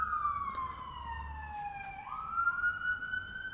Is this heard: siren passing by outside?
yes